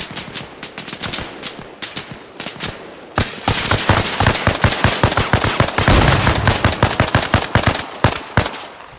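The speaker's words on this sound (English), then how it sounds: "I'm in danger. I'm gonna have to wait until they stop shooting at me." Gunfire aimed at the player in the video game Arma Reforger: loud, close bursts of automatic rifle fire, sporadic at first, then a sustained rapid rattle of dozens of sharp cracks.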